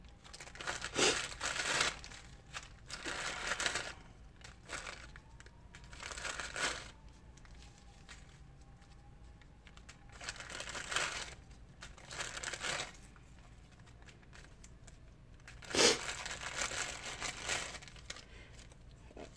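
A plastic bag holding seed packets crinkles in repeated short bursts as it is handled nearby, separated by quieter pauses, with a faint low tone drifting underneath.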